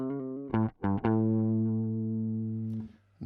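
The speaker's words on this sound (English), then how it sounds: "Now I'm using the FuzzBillion as a DI for bass guitar" Aria Pro II bass guitar played straight through a FuzzBillion fuzz pedal used as a DI, hot signal with no gain added: a few short plucked notes, then one long sustained note ringing out, loud and close, no talking.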